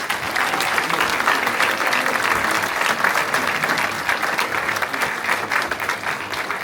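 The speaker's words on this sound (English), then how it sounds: "please give these two a round of applause." A theater audience at a film festival in Chapel Hill claps steadily and loudly throughout, a dense, even wash of applause with no break.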